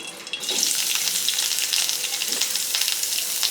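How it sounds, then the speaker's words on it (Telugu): Small chopped onion sizzling and frying steadily in hot oil for an amaranth chutney, a dense continuous crackle with a few soft stirring scrapes, close and moderately loud, no talking. "వీటిని కూడా వేసుకొని ఫ్రై చేసుకుందాం"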